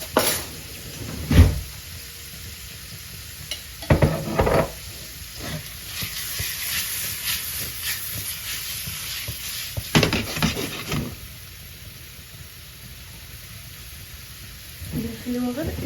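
Shrimp frying in butter in a pan, with a steady close sizzle under a Moroccan cook's talking, interrupted by a few sharp clacks and stirring knocks.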